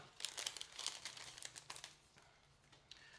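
Close, crisp crinkling of plastic packaging as an iPhone screen protector kit is peeled open and unpacked, a run of quick rustles that thins out toward the end.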